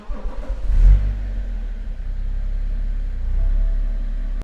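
BMW diesel engine with its DPF and EGR still fitted, idling steadily with a deep low rumble, a brief rev swell near the start and a second slight rise later, no voices.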